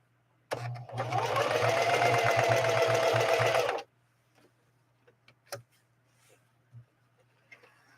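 A Singer 4411 heavy-duty sewing machine stitches a super wide zigzag in one close, continuous whirring run of about three seconds, then stops; a few light clicks and taps follow in the quiet.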